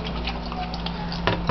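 Freshly caught crawfish from a ditch get washed in water, giving soft close-up sloshing, dripping and pattering with a few brief clicks and splashes toward the end.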